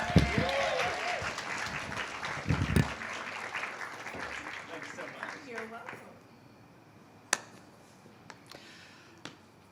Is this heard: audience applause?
yes